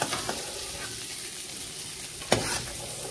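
Potato and cauliflower fry in a kadai with a continuous soft sizzle, punctuated by a couple of scraping stirs, one quick and one louder and longer near the end.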